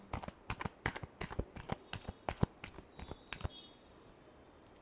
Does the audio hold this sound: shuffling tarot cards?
yes